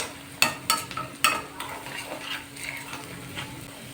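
Ginger-garlic paste with rock salt frying in a pan, with a few sharp metallic scrapes and clinks of a spoon stirring early on over a soft, steady sizzle.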